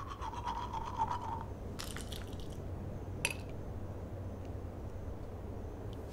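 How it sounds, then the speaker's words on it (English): Someone brushes their teeth in the video game Life Is Strange. Brief scrubbing and squishing bursts come in short runs over a low steady hum, with a few sharp clicks. "nimm doch einfach fremde Zahnbürsten und putz dir die Zähne"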